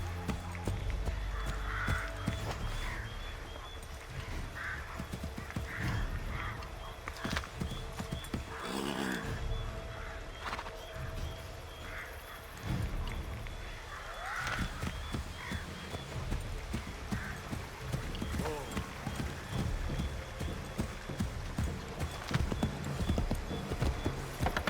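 Galloping horse hooves in Assassin's Creed III, a fast rhythmic clip-clop running steadily throughout with an occasional whinny, set against game ambience and character voices.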